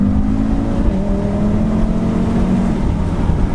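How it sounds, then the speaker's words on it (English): A turbocharged Audi RS3 five-cylinder engine revving steadily with a low droning tone, a slight pitch dip partway through, heard close up with no one talking. "an RS3 has got the wonderful 5-pot engine under the bonnet, which I will demonstrate how amazing it sounds now"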